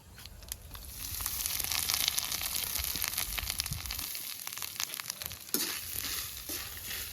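Chana dal, urad dal and grated coconut frying in a pan for a neer urundai recipe, a steady bright sizzle with occasional stirring scrapes, close and continuous without speech.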